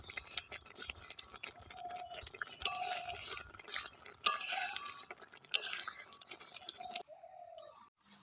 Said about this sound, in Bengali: আর এবার উনুনের আঁচটাকে একদম মিডিয়াম রেখে কিন্তু ঘন ঘন নাড়তে হবে যাতে একটুকু কিন্তু লেগে না যায়